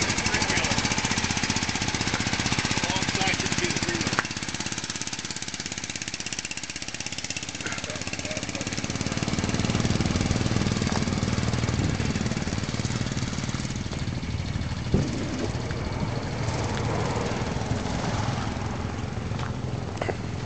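A 1982 Honda automatic motorcycle engine runs steadily for the whole stretch, a broad continuous putter with some rattle, close and loud, with a brief knock near the middle.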